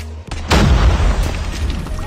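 A frag grenade going off in the Call of Duty Mobile video game, a single close, heavy boom that rolls out into a rumbling decay.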